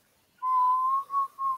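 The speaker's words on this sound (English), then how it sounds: "I'm gonna whistle a second." A person whistles a steady, sustained tone followed by two shorter whistled notes, close and clear with no talking, during a Minecraft parkour game session.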